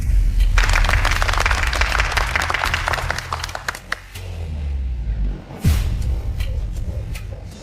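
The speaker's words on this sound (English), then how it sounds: "let's have a warm round of applause for today's final young singer" A warm round of audience applause for a young singer at a singing competition, dense clapping from a crowd that carries for several seconds, thins out and then briefly swells again before fading.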